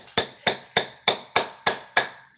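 Hammer strikes on a copper cuff bangle bracelet, seven evenly spaced sharp metallic taps with a bright ring, close and fairly quiet, no talking.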